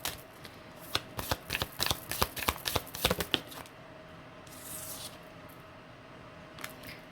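A deck of tarot cards being shuffled by hand in a quick run of crisp riffling snaps, then a softer slide and a faint flick as a single card is drawn.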